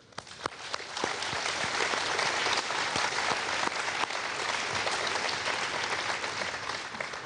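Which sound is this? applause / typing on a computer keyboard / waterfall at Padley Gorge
applause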